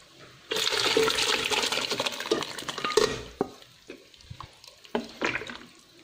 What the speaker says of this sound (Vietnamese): mình cho cái nước dừa tươi này vào rồi mình cho cái à, phần hỗn hợp mà mình đã xào vào nha